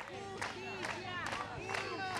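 A crowd of mourners at the funeral procession of prosecutor Alberto Nisman claps and chants, with rising bursts of applause and voices that swell every half second or so over a steady, dense crowd murmur.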